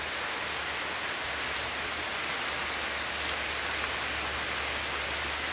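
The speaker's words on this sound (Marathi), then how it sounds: "पाऊस आला, आपण पाठीत चाललो," Steady, even rain pours down outdoors in the monsoon countryside, a dense continuous hiss with no voices, holding level throughout.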